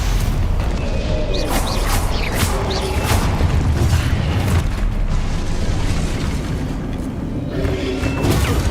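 Spell combat in Hogwarts Legacy with Stupefy being cast: loud, dense game effects with repeated booming impacts and whooshing bursts in close succession, continuous and forceful, with no clear voice over them.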